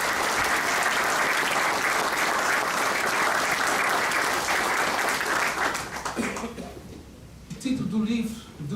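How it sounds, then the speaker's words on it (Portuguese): Sustained, loud applause from an audience at a book launch marking 150 years of the Ribeira Grande volunteer firefighters, a dense wash of clapping that thins and fades near the end, with voices surfacing as it dies down. "para aqueles que tiveram, efetivamente, essa visão, uma grande salva de palmas"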